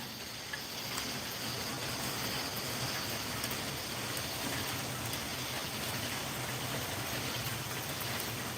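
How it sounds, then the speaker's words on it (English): Steady rain drums on a roof, a dense, even hiss of drops that stays constant and fairly quiet throughout with no voices. "Can you hear that rain hitting the roof?"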